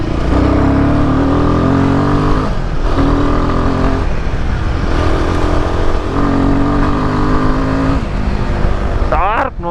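A Royal Enfield Himalayan 450 motorcycle pulls hard off road, its engine note climbing in repeated surges of rising revs between brief throttle lifts, loud and close, with someone talking over parts of it.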